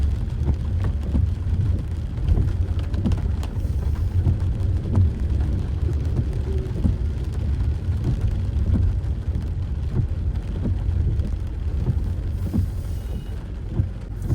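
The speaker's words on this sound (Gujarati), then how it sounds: "આવો વરસાદ છે અહીંયા બોડેલીમાં." Heavy monsoon rain pouring steadily in Bodeli, a loud, dense roar of rainfall with a deep rumbling undertone and no break throughout.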